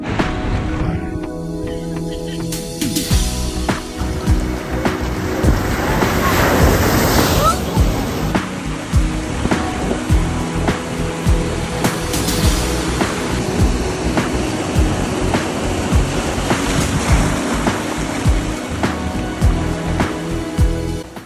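Surf washing in at Kua Bay beach in Hawaii, a steady broadband rush of waves with some wind buffeting the microphone, continuous and fairly loud across the whole stretch.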